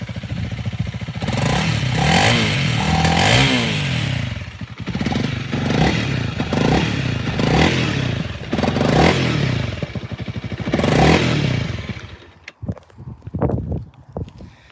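A Honda CRF300L motorcycle engine idles and revs close by, loud throaty bursts swelling and dropping over several seconds before cutting to quieter clatter near the end.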